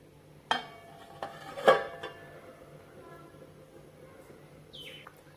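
A metal lid clinks down onto a pot of boiling sambar with a few sharp clattering knocks, followed by quiet kitchen background and a faint bird chirp.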